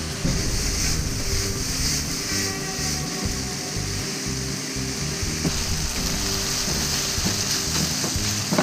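Rice and vegetables frying together in a pan: a dense, steady sizzle fills the clip, loud and close, with occasional soft scrapes and clicks of stirring and no talking.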